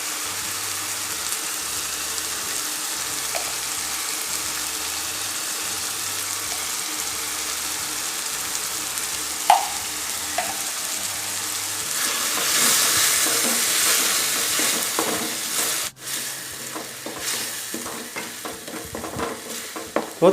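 Tomatoes sauté in hot oil for Tamil tomato rice, a continuous close sizzle and crackle with scraping stirs, growing louder and busier partway through.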